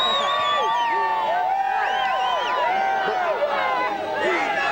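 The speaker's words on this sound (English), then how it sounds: "This is a live crowd." A live street crowd at a Baltimore Ravens Super Bowl celebration parade, masses of overlapping voices, cheers and shouts forming a dense, steady roar close around.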